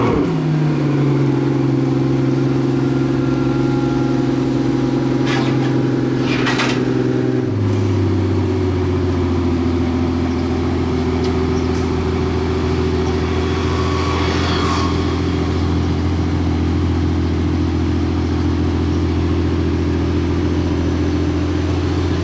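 A Porsche GT3 RS engine drones steadily and loudly while driving downhill in Monaco, its pitch dropping partway through as it shifts down, then rumbling on at a lower note as it coasts.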